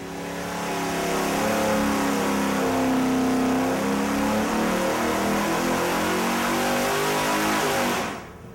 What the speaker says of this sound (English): it's time to put the pedal to the metal and see if the Super Duty is still super